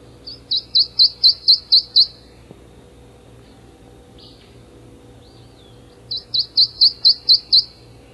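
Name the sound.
bird song repeating sweet notes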